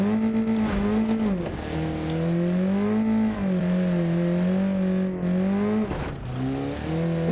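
A small Baja competition off-road car engine drives close up, droning steadily as the revs rise and fall in smooth swells, with a brief dip and pickup near the end.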